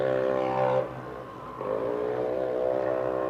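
A race car engine at a motorsport event with a fuel or ignition problem revs high and steady, drops briefly to a lower drone, then climbs back to a strained, sustained roar, near and loud with no talk.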